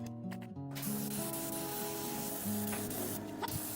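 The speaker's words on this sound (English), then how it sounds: "A fresh coat of paint provides a protective, beautiful finish." Spray gun laying a fresh coat of paint on the powertrain parts of a 1995 Daewoo Cielo being restored: a steady, close hiss runs through the whole stretch, with faint tonal background sounds beneath it.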